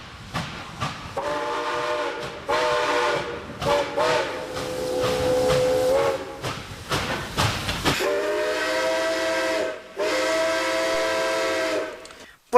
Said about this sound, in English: evident that it's a 6-chimed whistle